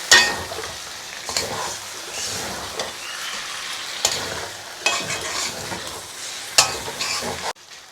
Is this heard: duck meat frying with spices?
yes